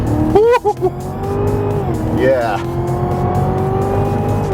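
A 2017 Cadillac CTS-V with a tuned 640-horsepower engine accelerates hard, its revs climbing loudly and closely with a brief tire squeal, while a person speaks briefly over it.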